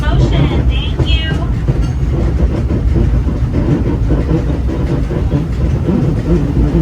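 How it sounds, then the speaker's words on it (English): A loud, steady rumble of the Disneyland Railroad train rolling along rails fills the whole stretch, with a brief screech of wheels near the start. "Our train is in motion."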